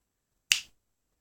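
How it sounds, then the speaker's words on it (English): A single sharp, dramatic finger snap rings out close and crisp, then decays quickly into silence. "that was a very dramatic finger snap"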